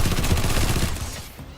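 Rapid automatic fire from a TR MAX secondary weapon in a video game, a dense burst of shots emptying the magazine while strafing, loud and close, then tapering off near the end.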